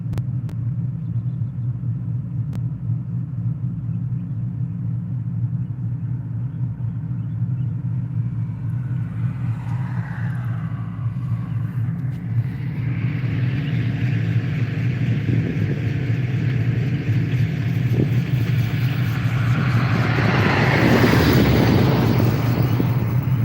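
A hot rod engine idles in neutral as a steady, loud low rumble, with wind buffeting the microphone and a rising roar and hiss building toward the end.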